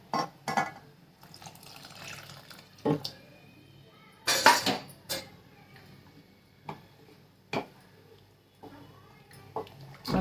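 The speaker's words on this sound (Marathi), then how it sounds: "गरम पाणी ऍड करते याच्यात" Hot water is poured into dal cooking for a tamarind-jaggery amti, with intermittent splashes and pot clatter in short bursts over a quiet background.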